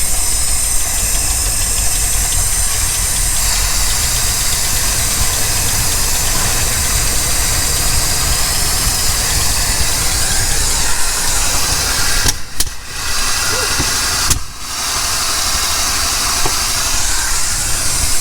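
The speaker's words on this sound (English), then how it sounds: "we're driving around the neighborhood" A van engine runs steadily and loudly throughout a drive around a neighborhood, with a broad continuous rumble and hiss and two brief dips near the end.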